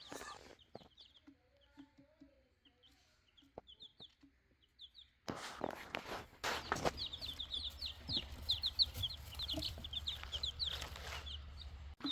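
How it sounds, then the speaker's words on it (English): Chicks in an indoor brooder give soft, scattered peeps at first, then a denser chorus of high cheeping starts over rustling and a low steady hum. "The chicks are enjoying their new location."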